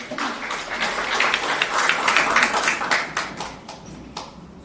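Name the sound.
applause welcoming a speaker at a campaign event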